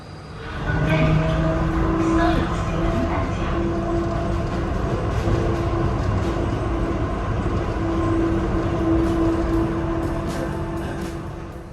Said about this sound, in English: take the SkyTrain, an automated people mover that will take me to the arrivals area.